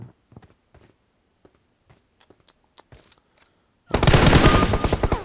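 A sustained, loud burst of automatic gunfire in PUBG Mobile ends the clip, following a stretch of quiet, sparse clicks and taps.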